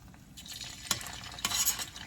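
Pieces of tofu drop into hot oil, a brief crackling sizzle with two sharper bursts of frying, fairly faint and close.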